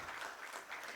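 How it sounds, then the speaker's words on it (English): A brief burst of audience applause at an SME manufacturers and exporters summit in a Mumbai conference hall, a soft, distant wash of many hands clapping without pause. "Please continue giving a round of applause,"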